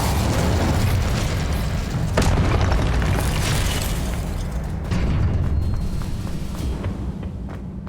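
The Incendio fire spell from Hogwarts Legacy erupts in a sustained roaring burst of flame with booming, crackling rumble and a few sharp pops, loud and dense throughout without any talking.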